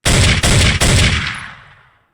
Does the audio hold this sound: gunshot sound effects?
yes